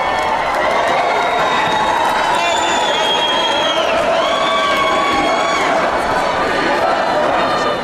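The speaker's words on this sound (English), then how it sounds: "Right now, the crowd is saying fight, fight, fight" Large crowd at the Republican National Convention chanting in unison amid continuous cheering and roar, loud and dense throughout, with overlapping voices.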